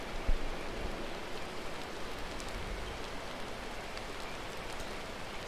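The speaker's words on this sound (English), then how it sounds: "I'm impressed if this fire is going in this rain." Steady, dense rain falls without a break in Final Fantasy XIV Shadowbringers, a constant even hiss with a slight low rumble and a single soft knock near the start.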